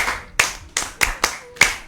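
Hands clap in a slow, spaced series of about six crisp, close claps during a Yoruba storytelling session, with little else around them.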